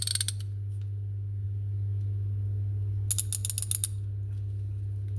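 NAPA Evercraft ratchets clicking in two quick bursts of sharp, close pawl ticks, separated by a quiet stretch over a steady low hum, with no one talking.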